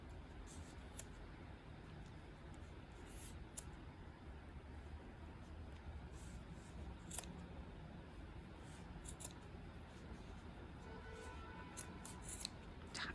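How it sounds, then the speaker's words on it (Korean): Scissors cutting macrame cord strands make faint, scattered snips and crisp clicks over a soft, constant background hiss, close and quiet, with no talking. "몇 개씩 낱개로 해서 이런 식으로 해서 끼워서 중간에 잘라줍니다"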